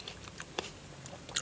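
Close, quiet chewing of grapes, with a few soft wet bites and crunches scattered over a faint background.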